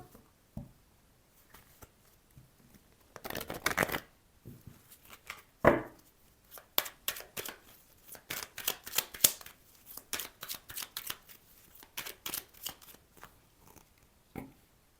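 Oracle de Béline cards being shuffled, soft papery riffles and light taps in irregular bursts, near and fairly quiet, with no voices.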